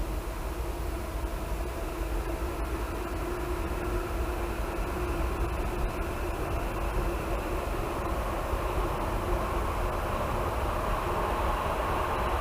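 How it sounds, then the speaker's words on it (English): A steady, heavy rumble of a train crossing a bridge continues without pause, broad and constant with faint rhythmic clatter beneath. "Train coming across."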